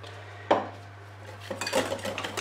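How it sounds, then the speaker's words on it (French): A spoon works through cake batter flavoured with liquid vanilla in a bowl, starting with one sharp knock and then turning to soft scraping and tapping strokes over a low steady hum. "Un petit coup de mélange."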